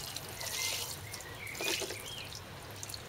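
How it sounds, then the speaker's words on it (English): Water trickling and dripping as compost is wetted before sowing tomato seeds, a soft steady pour with brief louder splashes, close by and with no talk. "before we start sowing, we need to water the compost"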